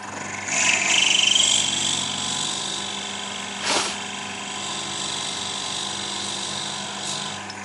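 A drill bit boring a 10mm hole into a workpiece held in a lathe gives a steady, close mechanical whine with a brief louder surge midway, running continuously without talk.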